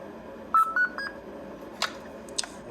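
Electronic speed controller in an upgraded Jada Fast and Furious drift Mustang RC car chirps a short startup tune of quick rising beeps, followed by a few faint clicks and a couple of brief, sharper tones in an otherwise quiet room.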